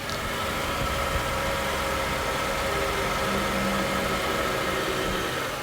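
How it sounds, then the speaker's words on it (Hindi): A Mercedes-Benz S-Class W140 inline-six petrol engine idles smoothly and evenly, a steady low hum with a faint mechanical whir, no revving and no voices. "तो भाई, ये इनलाइन 6 सिलेंडर पेट्रोल इंजन है।"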